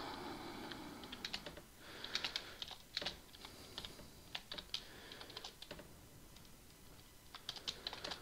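Java code is typed on a computer keyboard in quick, irregular bursts of crisp key clicks with brief pauses between runs. The typing is close and quiet, and no voices are heard.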